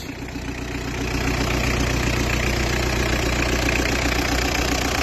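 The engine of a 2008 Partner idles steadily with a low, even rumble and light knocking texture, close by and continuous with no talking.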